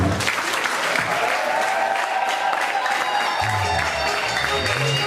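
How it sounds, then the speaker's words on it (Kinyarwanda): A choir concert audience breaks into loud, sustained applause with ululation, a dense wash of clapping and cheering that holds steady from start to finish. "duhereze Imana amashyi n'impundu"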